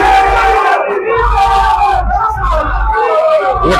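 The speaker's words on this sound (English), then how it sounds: "The crowd is going." A crowd at a Kenya versus Uganda challenge match, race to 13, roars and yells after a shot, loud and sustained with overlapping voices throughout.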